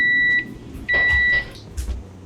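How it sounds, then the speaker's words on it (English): Oven timer beeping in a home kitchen while dinner bakes, two steady electronic tones separated by a short gap, loud and clear with no talking. "The timer just went off."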